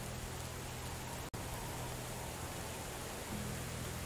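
Rain falls in the game Medieval Dynasty as a constant, evenly spread wash of hiss, broken by a brief dropout about a third of the way through, with no voices over it.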